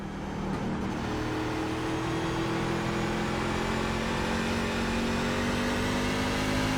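Engine of a NASCAR truck at New Hampshire Motor Speedway in iRacing, a continuous loud drone whose pitch climbs steadily as the throttle is worked, heard up close and alone.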